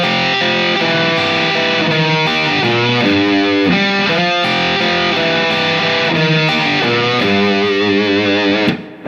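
Distorted electric guitar playing a blues riff slowly with a pick, with a thick, steady stream of overdriven notes and a bent, vibrato note near the end, loud and close without any voice.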